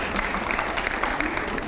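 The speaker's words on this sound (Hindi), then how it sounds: "जोरदार तालियां" Audience applause at a televised panel discussion, a brief dense burst of clapping from a large crowd with a voice faintly mixed in.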